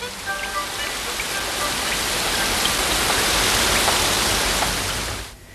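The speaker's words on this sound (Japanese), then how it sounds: "でもこの雨止まないかもしれませんよ。" Steady rain falls in a dense, even hiss of drops on surfaces, loud and continuous before fading out abruptly at the end.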